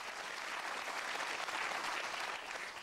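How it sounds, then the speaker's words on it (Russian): Studio audience applause on a UK quiz show, a steady, dense wash of clapping at even loudness across the whole stretch, with no voices over it. "Аплодисменты."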